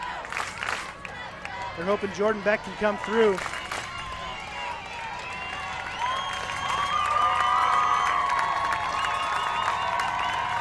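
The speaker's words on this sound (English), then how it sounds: "We got the Let's Go Canada chant going." A crowd at an under-19 women's world championship softball game between Canada and the USA in Brampton, Ontario, swells into a sustained, distant chant and cheer. A commentator talks first over scattered claps and calls.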